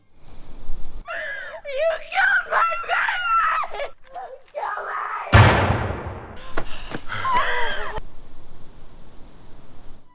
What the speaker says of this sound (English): Kim screams in despair as her son dies in her arms.